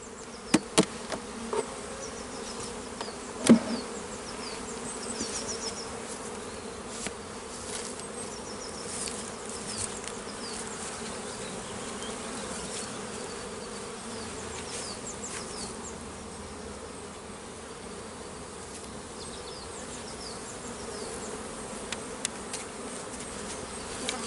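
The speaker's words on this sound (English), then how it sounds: "shake the bees from the bottom box at the entrance so they fly in" Honey bees swarm and buzz around hive boxes during a beekeeping job, a steady, dense drone that fills the whole clip. A few brief knocks stand out, and no voices can be heard.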